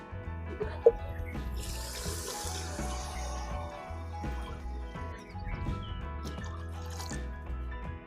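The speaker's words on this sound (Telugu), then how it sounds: "ఇప్పుడు మనము ఒక గ్లాసు బియ్యానికి 2 గ్లాసులు వాటర్ వేసుకోవాలా" Water is poured into rice in a pot for khichdi, a continuous trickling and splashing with drips and a small knock, moderately close and fairly soft.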